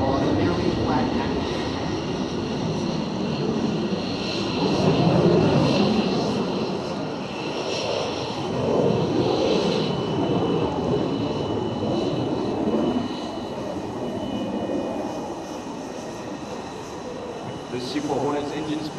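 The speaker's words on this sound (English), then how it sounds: "Observe how the aircraft rotates 180 degrees while on a nearly flat path." F/A-18F Super Hornet jet maneuvering at the MCAS Miramar Air Show, a loud engine roar that rises and falls in surges, with an announcer speaking over it.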